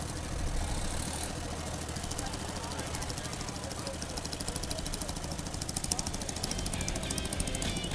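Antique US Air Force tractor once used to tow luggage and parts carts, its engine running steadily with a rough, knocking chug throughout, heard outdoors at a thresheree show amid crowd chatter and background noise.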